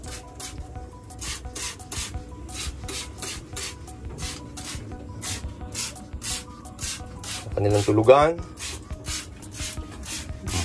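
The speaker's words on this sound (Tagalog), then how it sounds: "spray lang natin hanggang sa matapos ang buong loob" A handheld sprayer mists Microban GT insecticide through a pigeon house, a steady train of short hissing spray bursts repeating at a quick, regular rhythm close by, with a brief louder clatter near the end and a voice speaking now and then.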